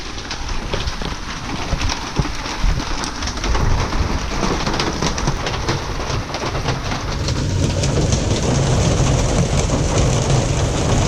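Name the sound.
rain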